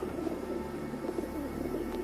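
Pigeons coo softly and repeatedly nearby while being fed grain, low rolling calls overlapping in a steady murmur, with no talking.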